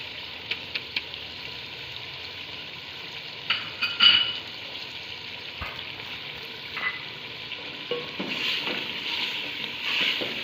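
Chicken biryani masala frying in a pan as spices go in, a steady close sizzle with scattered scraping stir strokes that grow busier toward the end.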